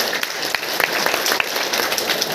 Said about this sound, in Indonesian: bisa tepuk tangan dulu untuk Bapak Ali Kurniawan.